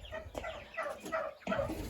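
Broiler chickens and small chicks on a home farm cluck and cheep close by, a busy overlapping chatter of several birds with sharp peeping notes throughout.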